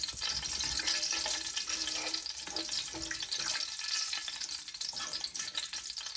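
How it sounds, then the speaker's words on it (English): Whole spices, including broken bay leaves, stirred in a frying pan for chicken biryani: a loud, continuous sizzle with soft scraping of the spoon throughout, no talk. "Now mix the spices."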